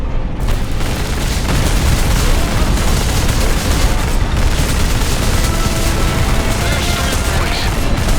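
Heavy gunfire and booming blasts from a Space Marine's weapons in the Warhammer 40K: Space Marine video game, a loud, unbroken wall of shots and explosions lasting throughout, with no pauses.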